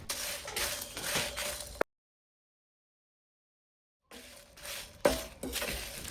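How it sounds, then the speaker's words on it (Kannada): Dry red chillies and curry leaves roast in a pan, soft sizzling and stirring scrapes in two short bursts separated by a stretch of silence, with a sharp clink near the end. "ಹಾಗೆ 2 ಎಸಳು ಕರಿಬೇವನ್ನು ಸೇರಿಸಿ ಪುನಃ ಸ್ವಲ್ಪ ರೋಸ್ಟ್ ಮಾಡಿಕೊಳ್ಳಿ"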